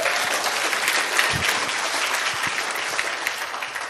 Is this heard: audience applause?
yes